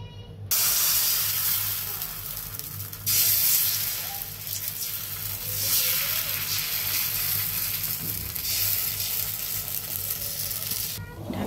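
Chapati pitha batter sizzling on a hot tawa, a steady loud hiss and crackle that swells in waves and runs continuously almost the whole time, with no talk over it.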